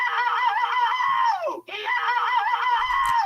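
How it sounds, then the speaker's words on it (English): A cartoonish bird-scream sound effect of a bird being eaten by a crocodile, a loud, wavering, high-pitched shriek that breaks off briefly midway, then resumes and continues to the end. "that's what the bird is going to be screaming when the crocodile eats it"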